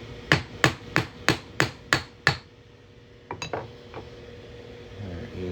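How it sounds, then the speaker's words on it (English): A center punch is hammered through a silver Texas quarter in seven sharp, evenly spaced metallic strikes, loud and close, followed by a few lighter clinks and taps after a short pause. "we're going to go ahead and hammer this right on through here"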